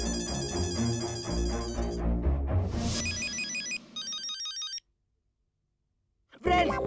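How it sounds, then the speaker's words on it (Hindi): A phone ringtone plays a clear electronic tone pattern, first over music and then alone in repeated bursts, with a short loud burst at the end. "मेहता अंकल का फोन है।"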